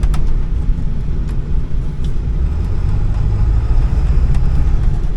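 A Ford F250 with a 7.3 Powerstroke diesel engine running after crank-but-no-start trouble, a deep steady low rumble idling close by with a few faint clicks, no talking.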